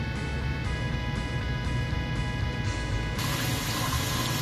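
Steady rush of water flowing into a washing machine drum as it fills, continuous and fairly loud, with a faint mechanical hum beneath and a brighter hiss entering near the end.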